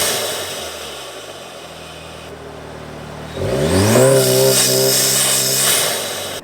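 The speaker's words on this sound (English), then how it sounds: "I'm running the APR open carbon fiber intake." An Audi/VW 8V or MK7 engine fitted with an APR open carbon fiber intake idles, then revs up sharply with loud rising intake whoosh and induction roar, holding high before easing off, heard close with no talking.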